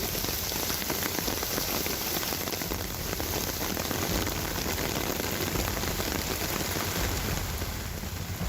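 Heavy monsoon rain pours down steadily in Mumbai, a dense, continuous roar of water hitting surfaces with no break or voices.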